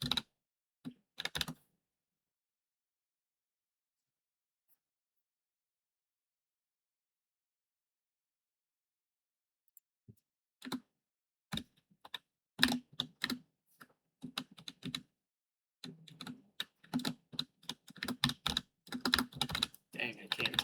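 Computer keyboard typing at a desk, a short burst of clicks, then a long silence, then irregular bursts of keystrokes that grow denser toward the end; close and fairly quiet, with no talking.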